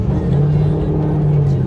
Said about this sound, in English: So now you wanna give it some gas.